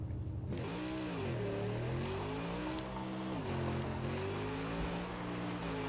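A car drives in the Mad Max video game, its engine tone rising and falling in long sweeps as it revs and eases off. The motor is steady, close and fairly quiet, and no talking is heard over it.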